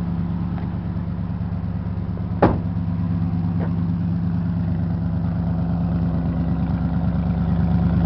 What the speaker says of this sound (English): There she is, got a cool V8.